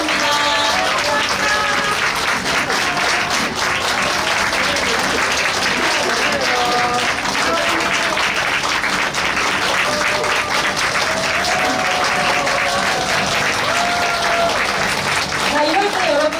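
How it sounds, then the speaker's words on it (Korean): Sustained, loud applause from a crowd at a Basic Income Party lawmaker's December legislative report meeting in Suncheon, steady for the whole stretch with some voices and tonal calls mixed in. "큰 박수로 맞아주십시오"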